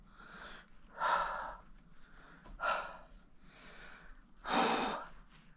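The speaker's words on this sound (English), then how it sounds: "I feel like half of this vlog is me just like panting." A woman pants heavily after exertion in hot weather, three loud breathy exhalations spaced a second or two apart with quieter breaths between, close to the microphone and without words.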